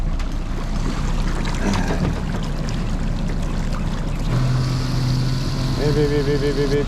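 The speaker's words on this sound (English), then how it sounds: "Then you got deck wash, which is this one right here." Deck wash pump on a 2021 Stabi 1550 boat spraying water, a steady loud rush of hissing water under a running motor hum, with a faint tonal whine joining near the end.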